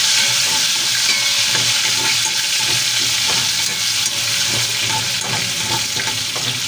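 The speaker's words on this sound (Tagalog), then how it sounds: "yung pong ating sausage ay medyo ipa-fried din po natin ng konti para mas masarap" Sausage frying in a pan of oil, a steady dense sizzle and crackle with occasional stirring, close and continuous throughout, no voices.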